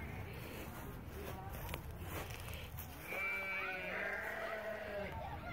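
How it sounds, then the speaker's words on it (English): Goats bleating on a farm with old equipment and a turpentine museum, several drawn-out bleats rising over steady background noise in the second half, preceded by indistinct ambient sound. "goats out there, looking at the goats."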